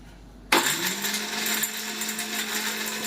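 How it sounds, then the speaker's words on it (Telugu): Mixer grinder whirring as it grinds ginger, garlic and dry coconut into paste for mutton curry, starting abruptly from quiet and running as a steady loud, high-pitched motor whine with rattling, close by and without speech. "మిక్సీ పట్టేయాలి"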